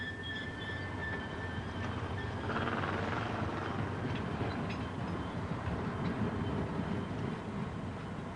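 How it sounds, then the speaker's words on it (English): Small diesel sugar cane locomotive hauling a load of cane to the mill through town on the Sunshine Coast, a steady rumble and rattle of wagons, close and continuous, with a brief high tone near the start. "Visitors lack their tolerance for the little diesel battlers dragging their load to the mill"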